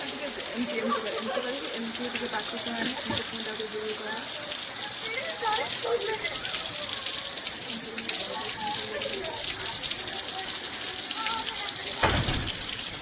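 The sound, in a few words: heavy rain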